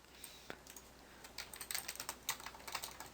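Quick, light taps on a computer keyboard come in short irregular bursts, faint and close, with no talking over them.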